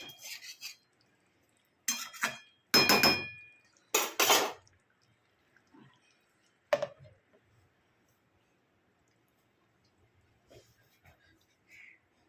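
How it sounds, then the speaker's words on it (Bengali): Metal clinks and clattering as a lid goes onto a pot of cooking methi chicken, a few sharp close knocks in quick succession, then faint scattered kitchen clicks in an otherwise quiet room. "আমি এই সময় আবার একটু ঢাকা দিয়ে দেবো যাতে গন্ধটা পুরো মাংসতে যায়"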